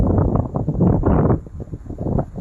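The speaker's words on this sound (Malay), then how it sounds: "Angin memang kuat tu angin" Strong wind gusts through tall forest trees where wild honey is being collected, a loud continuous rushing roar that buffets the microphone close up.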